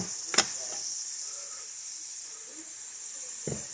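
Soft, steady sizzling hiss of milkweed buds sautéing in olive oil in a pan, with a couple of brief louder crackles or clatters near the start and end.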